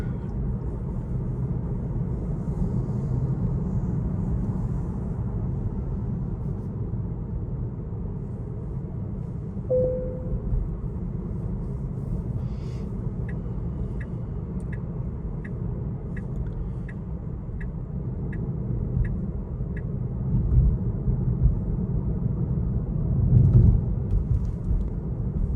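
Tesla on Full Self-Driving coasting through Liège at about 50 km/h, a steady low road and tyre rumble inside the cabin, with a short run of evenly spaced soft ticks partway through.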